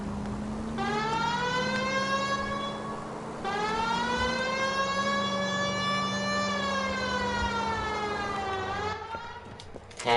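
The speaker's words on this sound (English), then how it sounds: "we've got a siren for a reason" A police car siren wails in the L.A. Noire video game, its rising and falling tone sweeping steadily over a low engine hum, loud and continuous for about ten seconds with no talk.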